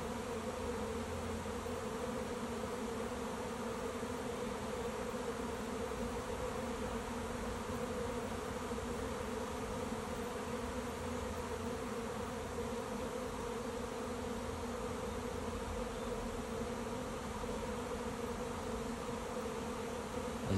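A honey bee swarm moving into a swarm trap outdoors, a dense, steady buzzing drone from many bees that holds evenly for about twenty seconds with no voices.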